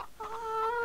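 Chickens in the farming game Farming Simulator 17 give a short burst of clucking, a couple of quick notes followed by a drawn-out tonal call, close and clear with no talking.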